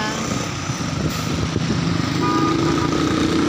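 A motorcycle engine drones steadily and loudly on a road in Pantukan, Davao de Oro, filling the scene with continuous rumbling road noise.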